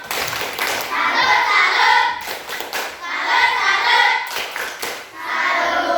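A classroom of students performs a patterned salute clap together, rhythmic bursts of hand claps with short pauses between phrases, fairly loud and close, with children's voices mixed in.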